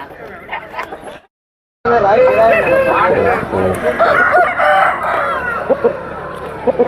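A big rooster crows at a busy country chicken market in Piler, loud and close, over a dense crowd din with voices talking throughout after a short silent gap.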